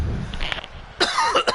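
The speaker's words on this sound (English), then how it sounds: "Not sure why I'm coughing so much, man." A man coughs several times in quick succession, harsh and close to the microphone, with a short pause before a final louder burst of coughs.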